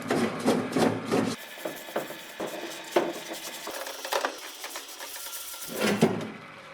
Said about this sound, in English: I gave everything a clean in the parts washer as they were pretty filthy